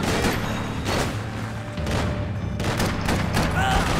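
Rapid gunshots from the video game Max Payne 3, several sharp bursts in quick succession amid a dense, loud game soundscape with no clear speech.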